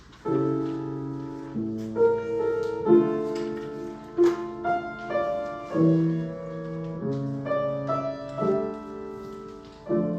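Recorded requiem music with choir and ensemble moving through chordal phrases, swelling and receding in waves with a sudden loud forte surge; no speech over it.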